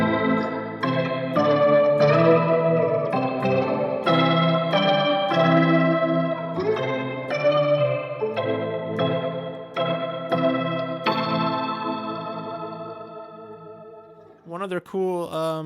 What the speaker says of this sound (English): if you add in the electric mistress with that Leslie kind of sound, you have a, you know, a really cool organ effect